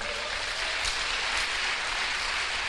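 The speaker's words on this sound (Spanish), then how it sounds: "Denle un aplauso al Señor." A church congregation applauds in a steady, dense wash of clapping that blends into an even roar, heard from a slight distance with no clear individual claps.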